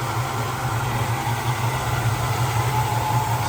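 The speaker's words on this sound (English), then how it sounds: "Idling perfect, runs perfect." A 1965 Chevelle's original 283 V8 engine idles steadily with a low, even rumble and no one talking over it.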